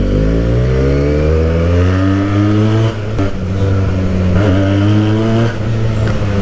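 A modified Benelli motorcycle exhaust rumbles loudly and steadily at close range, a deep throbbing idle with a couple of brief dips in the note.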